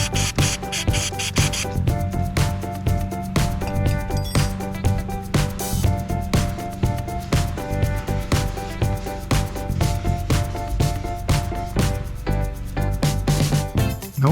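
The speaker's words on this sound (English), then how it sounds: "the brake disc needs to be cleaned from some grease spots" Steady rhythmic rubbing strokes on a Vespa PX 200 brake disc while grease spots are cleaned off, close and continuous with regular back-and-forth scrubbing.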